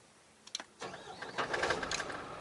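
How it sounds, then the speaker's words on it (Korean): A MAN TGL 10.190 light truck engine starts up: a couple of short clicks, then the diesel cranks and catches into a rising, steady rumble heard from inside the cab. "시동 걸어 보겠습니다"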